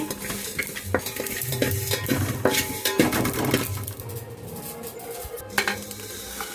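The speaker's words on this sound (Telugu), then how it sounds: "ఇవైతే లైట్గా ఫ్రై చేసుకోవాలి" Korameenu (murrel) fish pieces fry lightly in a pan, a steady close sizzle mixed with stirring and the clink of a utensil against the pan, with no talk.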